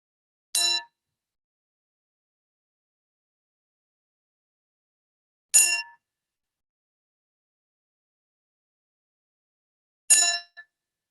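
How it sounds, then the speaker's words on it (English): A meditation bell at a Sunday sangha sits in total silence, struck three times about five seconds apart, each bright, clear tone ringing briefly before fading out. "And when you hear the sound of the bell"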